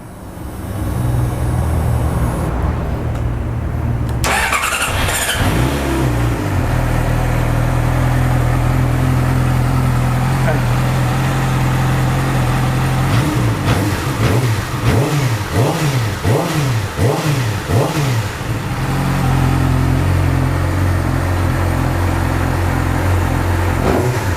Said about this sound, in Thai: ลูกค้าที่อยากจะฟังเสียงเครื่องใช่ไหมครับ เดี๋ยวผมลอง สตาร์ทให้ฟังคร่าวๆนะครับ